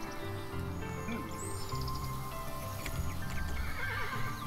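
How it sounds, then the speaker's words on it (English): A horse in the video game Kingdom Two Crowns gives a loud whinny with clip-clopping hooves, set over the game's layered music and faint bird chirps. "Ah, freaking horse."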